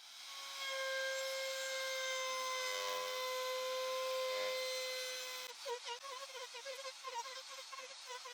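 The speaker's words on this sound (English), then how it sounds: "I'll use it to round all the edges of the item." A power router whines steadily as it rounds the edges of reclaimed wood, a high sustained tone that turns rougher and chattering toward the end.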